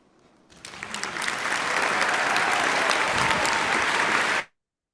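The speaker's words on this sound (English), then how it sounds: "Let's give a round of applause for this amazing, amazing speech of Mr. Bharat Sangekar" Audience applause after a speech by Bharat Sangekar at a public-speaking panel: clapping swells quickly from quiet into a full, even burst of many hands, holds steady for a few seconds, then cuts off abruptly.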